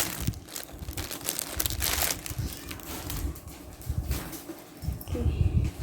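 A cloth cover for a NUX NPK-10 digital piano keyboard is unwrapped, with close, loud plastic packaging crinkling and rustling in irregular bursts throughout.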